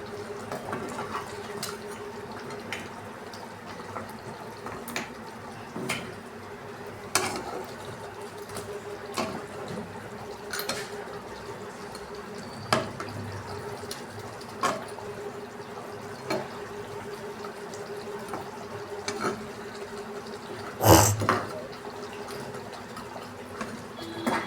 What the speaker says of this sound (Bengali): মাছটা একটু ফুটে গেলে আমি নামিয়ে নেবো